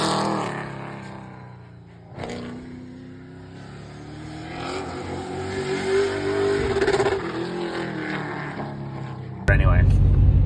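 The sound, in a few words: crate motor car engine revving on test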